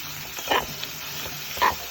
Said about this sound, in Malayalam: ചെമ്മീന് നല്ലോണം മസാല ഒക്കെ വെച്ച് പൊരിക്കാൻ വേണ്ടിട്ട് നിൽക്കുന്നുണ്ട്